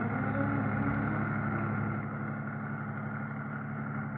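A roadster creeping slowly and quietly along a beach street at night with its headlights out, its engine humming in a steady, low idle that stays even throughout with no other sounds.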